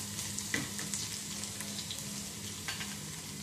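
Finely chopped garlic frying in hot oil: a steady, dense crackling sizzle that holds level throughout, with scattered small pops and a low background hum, close and continuous with no talk.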